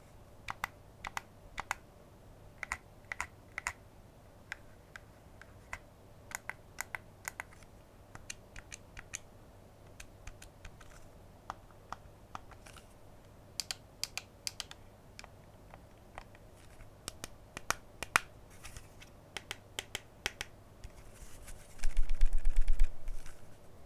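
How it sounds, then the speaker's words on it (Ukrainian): Buttons and bumpers on a Gulikit KingKong 2 Pro gamepad are pressed one after another, giving sparse, quiet, crisp clicks in short irregular bursts over a soft background hum. "Його кнопки натискаються чітко, бампери нажимаються в усіх місцях натискання"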